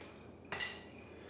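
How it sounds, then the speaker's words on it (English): A single ice cube dropped into a glass for an old fashioned cocktail, one bright close clink that rings briefly and fades. "gonna throw an ice cube in there."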